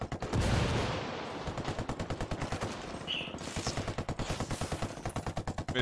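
Sustained automatic gunfire in the video game Tom Clancy's Ghost Recon Wildlands, a loud, rapid rattle of shots running nonstop, with a few brief higher effect tones layered in.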